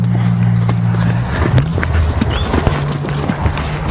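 A young, green horse trots under a rider, and its hooves clip-clop in a quick, loud, close rhythm. A brief low voice comes in near the start.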